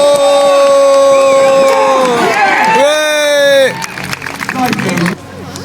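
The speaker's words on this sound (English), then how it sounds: "I want you to really get behind Jay and cheer him on" Loud crowd cheering and whooping at a sword-cutting demonstration at Warwick Castle, with strong sustained shouting voices over the crowd before the noise drops into scattered hubbub.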